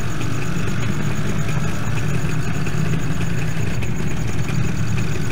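A vehicle engine in the video game Farming Simulator 2013, a steady, loud low rumble with a constant droning hum and no speech over it.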